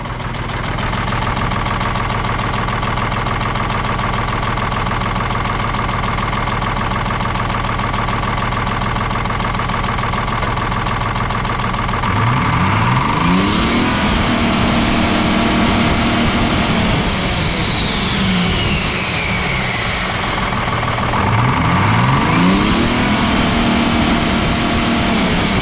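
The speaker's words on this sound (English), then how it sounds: "this turbo sounds freaking sweet with no air cleaner on it when I rev it up" A Caterpillar 3406A diesel engine with its air cleaner removed idles with a steady drone, then revs up twice, the open turbo rising into a loud whistling spool before winding back down.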